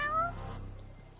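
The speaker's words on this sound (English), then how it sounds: "That's no bitchin', that's a cat." A cat in the Judgement video game gives a single short meow, clear and close, followed by a quiet low tonal game background hum.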